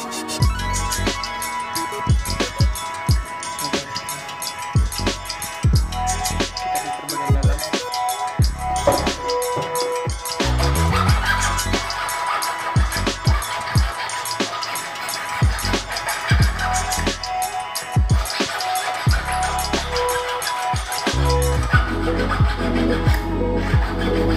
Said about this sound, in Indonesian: lalu kita kikir bagian dalam